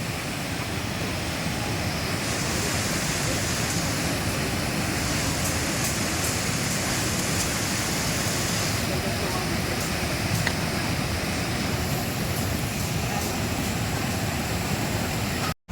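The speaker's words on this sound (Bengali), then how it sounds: "এখান দিয়ে ঢুকছে জল, ওই জন্য আওয়াজ হচ্ছিল একটা ভেতরে" Water pours into the Gupteshwar Mahadev cave in Nepal, a steady, dense rushing roar that holds without a break from start to finish.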